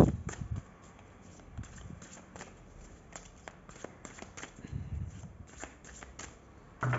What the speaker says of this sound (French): je vais faire une coupe et je vais prendre 3 cartes.